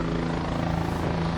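A helicopter's rotor and engine drone steadily and loudly, with a constant low thrum close by and no break.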